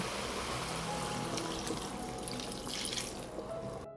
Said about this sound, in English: Now I add 300 milliliters of white wine.